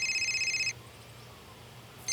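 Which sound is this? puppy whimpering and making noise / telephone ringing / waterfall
telephone ringing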